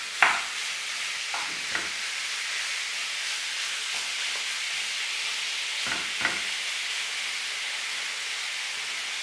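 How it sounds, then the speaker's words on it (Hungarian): Meat fries in a pan without extra oil, giving a continuous sizzling hiss with occasional soft clicks of stirring, close and steady throughout. "Egy serpenyőben dolgozunk, plusz olajat nem használunk, mert van elegendő a húson, és egyszerűen csak le kell pirítanunk a húst."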